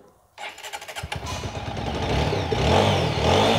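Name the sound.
second-hand motorcycle engine running and revving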